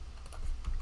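Quick typing on a computer keyboard while compiling C code, a short run of soft close key clicks.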